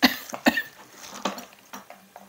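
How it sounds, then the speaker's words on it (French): A few short, sharp coughs in quick succession, fairly close, with brief pauses between bursts. "je tousse encore un peu"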